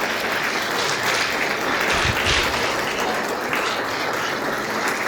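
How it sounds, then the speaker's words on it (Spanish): A standing church congregation applauds in praise during a Spanish-language sermon on repentance, a steady wash of close, dense clapping filling the whole stretch. "den un aplauso al Señor porque nos da la oportunidad de arrepentimiento"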